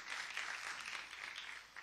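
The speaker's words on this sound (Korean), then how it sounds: "축하, 우리 박수 한번 보내줄까요?" A church congregation applauds graduates in a brief burst of steady, moderately loud clapping from many hands filling the room.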